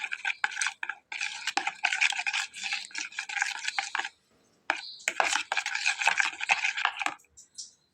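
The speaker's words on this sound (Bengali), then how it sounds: "সয়াবিন তেল দিয়ে আমি খুব ভালোভাবে এটাকে একটু মিশিয়ে নেব।" Salt, sugar and soybean oil are stirred together in a bowl for a tomato paratha dough, with busy scraping and clinking strokes in two long bursts separated by a short pause.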